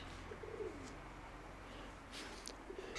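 Two soft runs of pigeon cooing, one early and one near the end, over steady outdoor ambience with a faint hiss.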